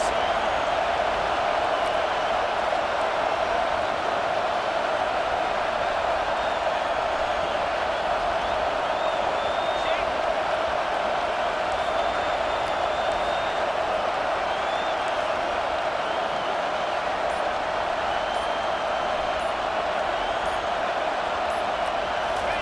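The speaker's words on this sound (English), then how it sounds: "this crowd is coming to help the defense" A stadium crowd in EA Sports College Football 25 roars as a dense, steady wash of noise throughout, swelling to pressure the offense late in a football game.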